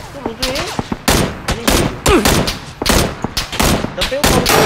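In the PUBG video game, a DP machine gun fires loud, rapid, close bursts mixed with other shots, while players talk excitedly over the shooting.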